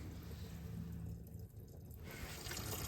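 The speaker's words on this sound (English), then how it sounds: "So let's go make sure we're actually draining into the bucket out there." Antifreeze-laced water drains from a 1973 GMC motorhome into a bucket outdoors, a steady close trickle and splash running continuously with a brief dip midway.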